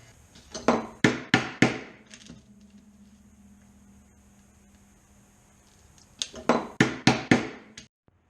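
Gasket material is punched out with a punch and hammer: two quick bursts of sharp metallic taps, about four strikes each, near and crisp, separated by a quiet pause with a faint hum.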